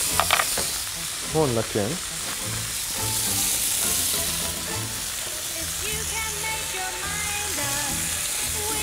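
Chicken sizzles and fries steadily in a pan with a constant hiss and occasional stirring, while people talk over the cooking throughout.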